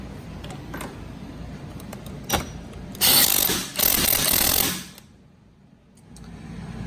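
A ratchet tightens the strut top nut on a Fiat 500 during a lowering spring and strut install: a couple of brief clicks, then about two seconds of loud, rapid ratcheting close by, before the workshop goes quiet.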